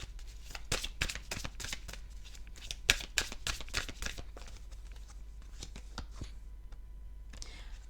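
Tarot cards are shuffled and drawn during a card reading, close and soft. Brisk riffling bursts in the first few seconds thin out into a few slides and taps of single cards, with no talking.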